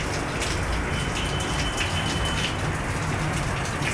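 Heavy rain pours down steadily, with water leaking through a broken roof tile into a kitchen, forming a dense, continuous hiss and splatter at close range throughout.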